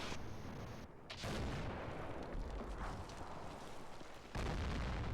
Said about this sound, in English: There's more volleys coming.